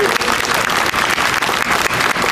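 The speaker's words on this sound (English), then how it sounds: "Let's give everyone a round of applause." A crowd at an aquascaping competition awards ceremony claps loudly and continuously, a thick, even wash of applause for the whole short stretch.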